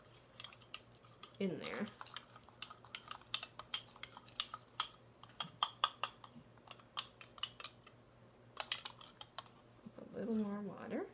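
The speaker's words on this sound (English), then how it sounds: "I'll put a little in here and stir it around. Give it a good stir." Dye being stirred in a small container, a quick series of light scraping clicks and taps of the utensil against the sides, close by, with brief speech at the start and end.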